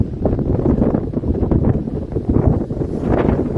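Strong wind buffets the microphone atop Standing Indian Mountain on the Appalachian Trail, a loud continuous low rumble with gusty swells and no talking.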